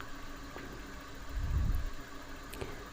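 A Suzuki Baleno engine idles with a low, even rumble that swells briefly midway, then settles back. The sound is fairly quiet and close, with no talking.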